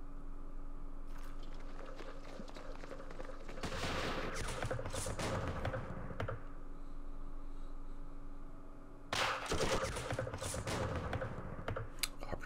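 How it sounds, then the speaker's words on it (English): Machine gun fire in the Vietnam War strategy game Campaign Series Vietnam: two separate volleys of rapid crackling shots, each lasting a few seconds, with quieter background noise between them. "Okay, our machine gun is firing now."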